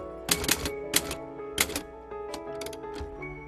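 Bursts of typewriter key strikes in quick clusters, a mechanical clickety-clack from an old manual machine used by a longtime writer, with brief pauses between flurries and a soft ring near the end; no speech.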